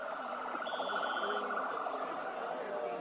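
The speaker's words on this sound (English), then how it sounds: "Rolling a couple ambulances by the field here." A couple of ambulances roll past a high school football field during a Thanksgiving game, their wailing sirens rising and falling steadily over distant crowd noise.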